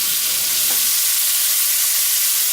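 Chunks of beef sear in a hot pan for beef bourguignon, giving off a loud, steady hiss and crackle that runs the whole time with no voices over it.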